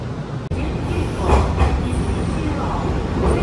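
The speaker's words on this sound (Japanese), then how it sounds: "ちょうど折り返し準急行、泉中央行きの列車がやってきました" A Semboku Rapid Railway train pulling into a station, a steady rolling rumble with faint rail clatter and a brief squeal, heard fairly close throughout.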